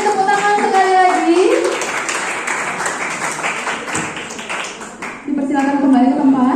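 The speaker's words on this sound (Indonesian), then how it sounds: "Baik, kita beri tepuk tangan sekali lagi." Audience applause at the opening of a statistics guest lecture fills the room with steady, dense clapping for several seconds, while voices and a tonal sound carry over it, fading briefly before rising again.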